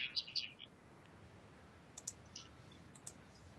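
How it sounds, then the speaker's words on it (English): Computer mouse clicks come through faint and scattered over an online voice-chat session for a tabletop game, a few quick clicks early and more sporadic ones later against a soft hiss. "Who's clicking mouse?"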